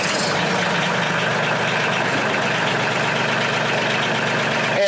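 A Mahindra 1626 HST 4WD compact tractor's diesel engine idles close by with a loud, steady, throbbing chug that holds an even pace throughout, with no talk over it.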